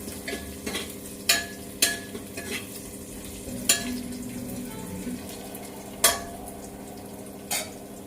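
Onions frying in a pan on a home kitchen stove, with a steady soft sizzle underneath and several sharp scrapes and clinks as a utensil stirs them against the pan at irregular intervals.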